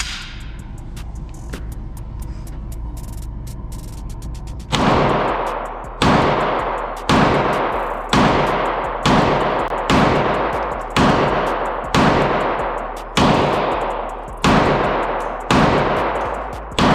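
Sniper rifle fired at an indoor gun range: after a few seconds of low rumbling handling, about ten loud, sharp shots ring out at a steady pace, roughly one every second and a half, each with a short decaying echo.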